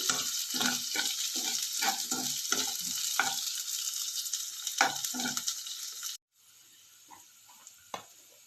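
Garlic and ginger sauté in a pan with a steady close sizzle, broken by repeated scraping stir strokes, then the frying drops to a quieter hiss near the end with a few light clicks.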